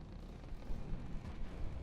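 Cannon fire in the naval combat game From the Depths, heard as a dense, continuous rumble of heavy booms blending into a loud low roar for the whole stretch.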